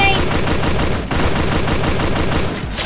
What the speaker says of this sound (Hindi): एक साथ फायर देना है